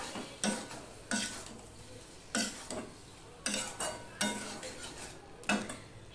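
A spatula scraping and knocking in a pan as flat bean curry is mixed, about nine distinct strokes in a steady unhurried rhythm, close but soft, with no talking.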